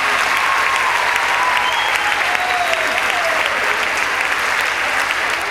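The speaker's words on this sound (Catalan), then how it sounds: "Un aplaudiment molt fort pel Ramon, pel Fernando, pel David" A theatre audience applauds loudly after a performance, a dense, steady wash of clapping that carries on without a break and with no voices standing out.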